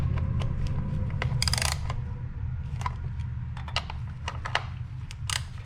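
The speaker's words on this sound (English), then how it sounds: "I like to take the ratchet and just go a little over hand tight." Ratchet tightening the plastic-mounted ignition coil bolts on a 2.0L four-cylinder Kia Optima / Hyundai engine: a series of close, sharp metallic clicks and ticks over a low steady hum.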